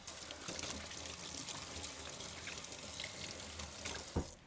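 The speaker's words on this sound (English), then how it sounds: "I'm going to wash my hands real quick." Hands being washed under a running kitchen tap, a steady broadband rush of water pouring into the sink for several seconds, close and continuous, with a brief louder splash near the end.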